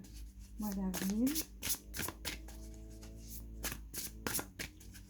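Tarot cards being shuffled by hand, a close series of quick riffling flutters and soft slaps, with a voice talking over part of it.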